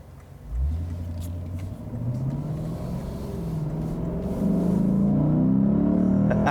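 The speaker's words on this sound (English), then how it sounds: "Just listening to that V8 scream is just a joy." A Lexus IS 500 F-Sport Performance V8 engine rumbles and climbs steadily in pitch as it accelerates, growing louder and deeper up close, with no talking.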